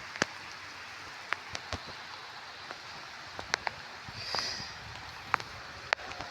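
Rain falls in a garden, mostly soft and faint, broken by scattered sharp drops hitting the ground and leaves.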